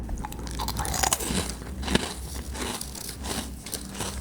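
Someone bites and chews a crispy rusk made from castella-like bread, giving close, repeated dry crunches and crackles in an uneven rhythm, with no talking.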